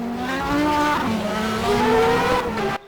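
Audi and BMW DTM race cars scream past in a steady, loud engine drone with shifting pitch, cutting off abruptly at the end.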